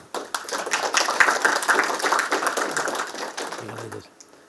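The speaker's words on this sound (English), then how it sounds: "So, round of applause." An audience at a talk on multipolar geopolitics and planetary-scale computation breaks into loud, dense applause that swells, holds steady, then thins out, with some voices mixed in.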